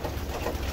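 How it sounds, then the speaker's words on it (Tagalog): Pigeons gathered at a bird feeder, soft cooing murmur under a steady outdoor background hum, brief and moderately quiet. "Mga gutom na yung ating mga ibon."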